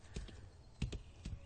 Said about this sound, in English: I'm just working with the horses.